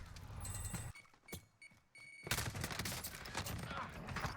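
A Type 100 submachine gun fires in Call of Duty Warzone, rapid bursts of gunfire broken by brief pauses, fairly faint overall with no talking over it.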